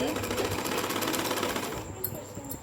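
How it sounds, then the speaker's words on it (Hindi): A sewing machine stitches a seam on a salwar with a fast, steady, close rattle for almost two seconds, then stops, leaving a few light clicks. "यहाँ से सिलाई लगाना शुरू करेंगे इस तरह से"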